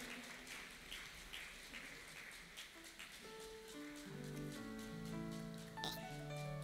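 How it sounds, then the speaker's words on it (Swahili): Congregation applauding at a Swahili and Luganda church fellowship service, a sustained wash of clapping throughout, with organ or keyboard chords rising in under the applause in the second half. "Moja pia makofi ya nguvu."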